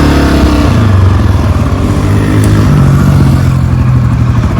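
A Honda CRF250F dirt bike rides slowly through a residential neighborhood, its mid-pitched engine droning steadily and loudly up close with slight shifts in revs, no voices.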